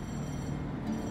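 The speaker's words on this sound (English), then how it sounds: "the train will come passing by" A steady, heavy rumble of a commuter train passing in Tavira, Portugal, in the evening, continuous and loud throughout with no pauses.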